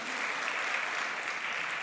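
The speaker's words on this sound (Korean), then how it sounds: "은혜 주신 하나님께 영광의 박수 돌리겠습니다" Worshippers at a Sunday service at Wangsung Church in Gwangju, Gyeonggi, clap together in praise to God, a brief, dense, uniform burst of many hands at an even level.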